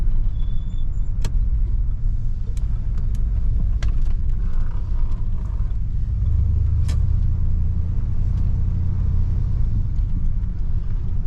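A 1971 Cadillac Deville cruises along a road, its steady low engine and road rumble filling the cabin without pause, with a few faint clicks and creaks from inside the car.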